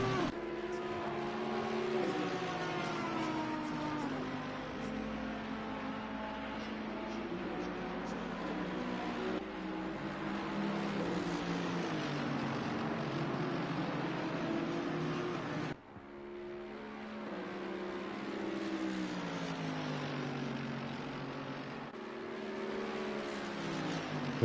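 Race cars in a racing video game at Paul Ricard, engines droning steadily with shifting pitch as the pack passes, continuous and fairly loud throughout with a brief dip midway.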